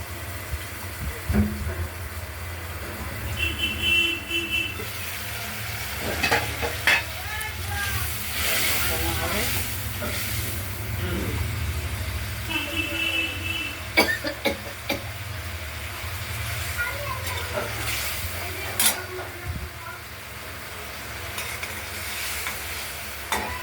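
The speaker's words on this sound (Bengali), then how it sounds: "বেটে রাখা মশলাতে হলুদ মিশিয়ে দিয়ে দেওয়া হলো কষানোর জন্য" Ground spice paste mixed with turmeric frying and being stirred in a pan for a fish curry with potatoes, giving a steady sizzle with repeated scraping stirs throughout, fairly close, while a person talks over it.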